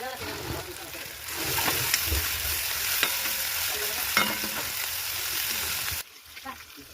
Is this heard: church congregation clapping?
no